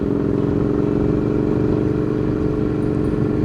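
A motorcycle rides along a winding back road to a campsite, its engine a steady, loud drone that holds near and constant throughout without pause.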